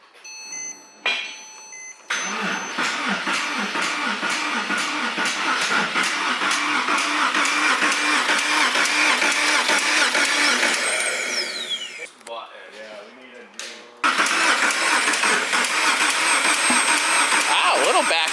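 A Porsche 911 engine cranks on its first startup attempt: a loud, sustained mechanical whir and rumble runs for about ten seconds, breaks off briefly, then resumes, with people's voices around it.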